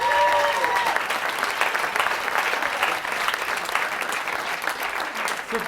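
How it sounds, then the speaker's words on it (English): A stage hypnosis show audience claps loudly and steadily for a volunteer, the dense applause sustained throughout with a crowd murmur beneath. "Give Brian a big round of applause."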